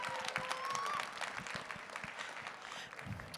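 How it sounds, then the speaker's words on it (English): A convention audience at a farm bureau event gives a round of applause: steady, dense clapping that sounds fairly distant and soft and lasts the whole stretch. "Let's give them another round of applause, please."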